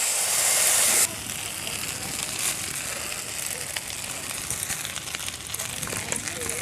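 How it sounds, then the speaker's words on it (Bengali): Chowmein noodles for homemade chicken chowmein fry in white oil, making a steady crackling hiss close by that opens with a louder, harsher rush for about a second. "সাদা তেলে ভেজে নিচ্ছি।"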